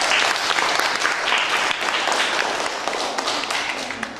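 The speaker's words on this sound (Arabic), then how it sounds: "صفقوا عليهم يا أولاد" Schoolchildren in a classroom clap together in steady applause, a dense crackle of many small hands that carries on evenly for several seconds.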